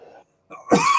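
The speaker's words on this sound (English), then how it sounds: "So excuse me while I have a bit of a coughing fit." A person coughs and clears their throat in a short burst after a brief pause, loud and close to the mic, with a faint murmur at the start.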